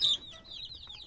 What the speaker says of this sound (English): this is Snow, our newest hen.